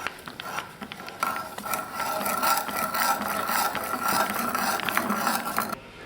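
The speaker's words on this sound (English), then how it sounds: "I'm going to drill down as far as I feel like." A drill bores down into the end of a wooden broomstick clamped with a hose clamp, making a close, continuous grinding rasp that swells after a brief start-up and cuts off near the end.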